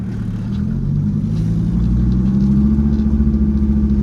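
A BMW E21 with a swapped-in diesel engine runs steadily, its low, gruff clatter droning loud and close throughout with a slight rise in revs partway through.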